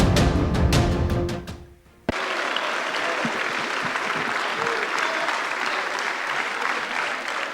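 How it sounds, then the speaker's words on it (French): Sustained loud applause fills the French National Assembly for new Prime Minister Jean Castex, a dense, even wash of clapping that runs on after a brief dip near the start. "Tonnerre d'applaudissements pour Jean Castex au Parlement français"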